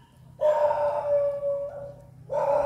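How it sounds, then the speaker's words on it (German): Dogs at Wat Khongkha Phimuk, a Thai temple, let out loud, drawn-out howling barks close by, one long cry followed by another after a short pause, with no talking over them. "Ja, Hunde haben sie auch genug."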